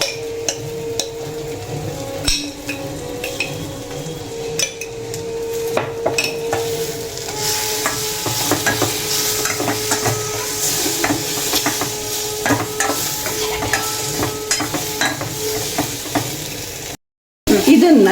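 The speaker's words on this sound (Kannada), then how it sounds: "ಇದನ್ನು ಚೆನ್ನಾಗಿ ಒಗ್ಗರಣೆ ಪೌಡ್ರು ಆ್ಯಂಡ್ ಅಮಟೆಕಾಯಿ ಚೆನ್ನಾಗಿ ಮಿಕ್ಸ್ ಮಾಡ್ಕೊಬೇಕು" Hog plums mixed into a spice tempering for homemade spicy pickle give a steady oily sizzle, punctuated by repeated metallic clinks and scrapes of a spoon against the pan, close and fairly loud.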